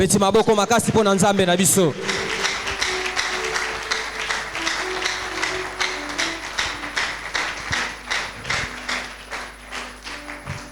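A congregation at a Sunday worship service in a church claps together in steady, rhythmic applause that fades gradually, after a brief burst of loud singing at the start.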